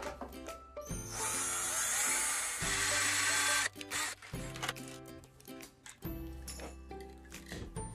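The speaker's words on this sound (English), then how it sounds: "And then you need a drill to open the hole." A power drill whirs loudly up close in two long runs, then in several shorter bursts separated by brief pauses, as it opens a rivet hole in a hula hoop.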